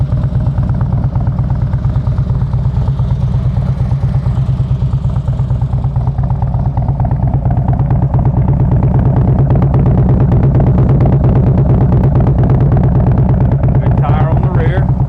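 Harley-Davidson Street Glide FLHX custom bagger idles close by, a loud, steady low rumbling putter that rises slightly toward the end.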